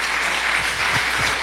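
A church congregation claps steadily, a dense wash of applause welcoming a preacher that fills the whole short moment at full volume.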